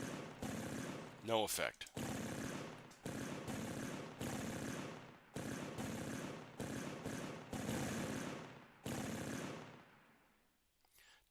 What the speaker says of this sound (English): we're going to fire at that target with a coax. Full effect. The bow machine gun.